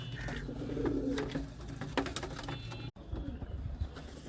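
A pigeon coos nearby in low, throaty repeated phrases, with faint background activity and a brief dropout partway through.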